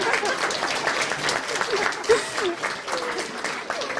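A Russian-speaking audience at an international meeting claps in a steady, moderately loud round of applause, with a voice briefly audible over it.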